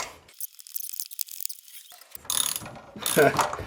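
A socket wrench ratchets on a 1989 power steering pump pulley, giving two short bursts of close, sharp clicking separated by a quiet pause.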